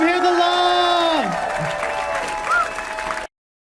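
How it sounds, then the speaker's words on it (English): A comedy-club audience claps and cheers for a comedian, a steady patter of applause under a sustained voice that fades and then stops abruptly. "Keep clapping. Let them hear the love."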